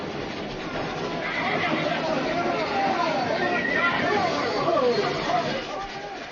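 Horses whinny and neigh near a corral amid a busy outdoor commotion in a western film, with shouting voices and general bustle layered over the animal calls.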